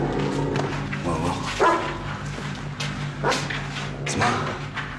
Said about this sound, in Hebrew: לתוך הזירה הזאת הם משחררים שני כלבים מעורבים?